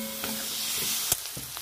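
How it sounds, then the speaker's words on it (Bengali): Green tomatoes stir-fry in a pan with mustard paste, a close crackling sizzle with a few sharp spoon knocks and scrapes during a brief stir. "এবার ভালো করে নেড়ে চেড়ে নেবো।"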